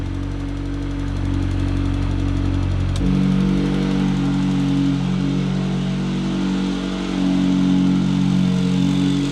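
A 1.8T-powered Toyota MR2 idles steadily, then its exhaust note abruptly deepens and grows louder as the E-Cut cutout opens, leaving a rumbling, throbbing idle that swells slightly toward the end.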